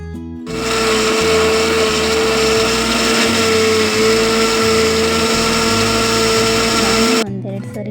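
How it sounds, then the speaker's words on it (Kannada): A mixer grinder runs loud and close, churning soaked ragi with water in a steady high whine with a rumbling low drone, starting abruptly and cutting off after about seven seconds. "ಈ ಥರ ಹಿಂಡಿ ಮಿಕ್ಸಿ ಮಾಡಿಕೊಂಡ್ರೆ ಆಯಿತು."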